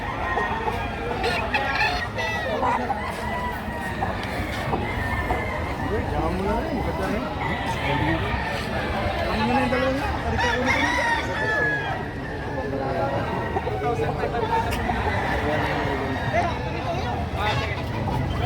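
At a chicken market in Padre Garcia, Batangas, roosters crow repeatedly and hens cluck amid a busy crowd, with people talking throughout over the birds.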